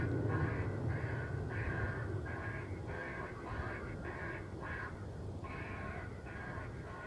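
Crows caw repeatedly near an airport, a series of harsh calls at moderate distance over a steady low rumble of background noise, with no talking.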